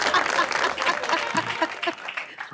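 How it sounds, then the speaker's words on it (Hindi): A studio audience at an Eid special show claps in a brief burst, with talk and laughter layered over the clapping. "भाई तालियां होनी चाहिए इस बात पर"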